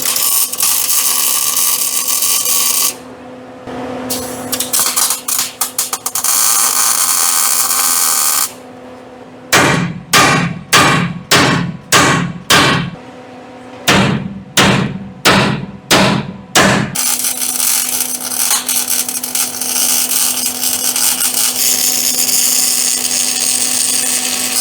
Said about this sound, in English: I'll take a hammer and beat these two ends up to meet it